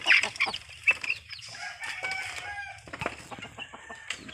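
Chickens cluck repeatedly at close range, with short irregular calls and a brief crow-like cry mixed in, no voices.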